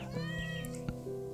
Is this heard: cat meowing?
yes